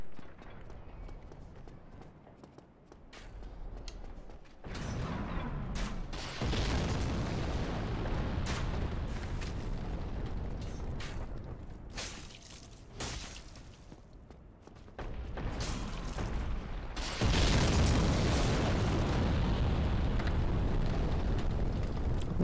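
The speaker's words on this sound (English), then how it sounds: "Those are some loud explosions." Loud video-game explosions in the Daughters of Ash mod rumble and boom in a dense, roaring wash, with several sudden bursts that swell to a heavy, sustained blast near the end.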